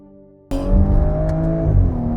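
A 2017 Audi S5 with a V6 engine fires into a loud rev while driving, the steady engine drone jumping sharply and holding a strong climbing tone before shifting pitch near the end.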